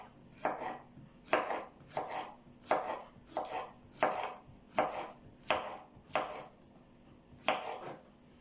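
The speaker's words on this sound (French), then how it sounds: "Alors maintenant, je vais découper donc en deux." A knife chops a courgette into small pieces on a cutting board in a home kitchen, giving about a dozen close, fairly evenly spaced knocks.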